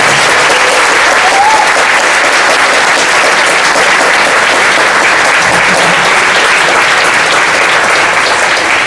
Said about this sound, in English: if you can give me a big thank you with a round of